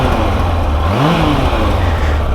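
A carbureted 1998 Yamaha R1 motorcycle engine holds a steady, throbbing idle, then gives one quick rev that rises and falls before settling back to idle.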